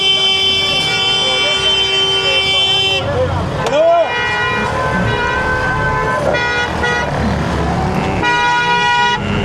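Busy road traffic in Faisalabad, with a bus pressing close behind, loud repeated horn toots and honks over a steady roar of engines, and a voice talking throughout.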